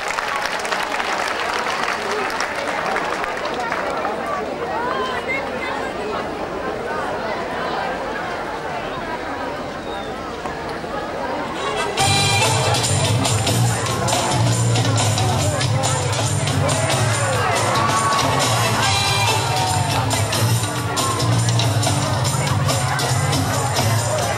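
An audience at a folklore show of Bulgarian dances and songs breaks into loud, sustained applause with cheering, following a stretch of crowd murmur.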